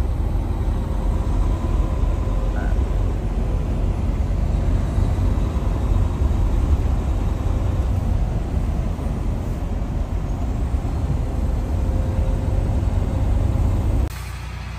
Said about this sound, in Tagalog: Toronto traffic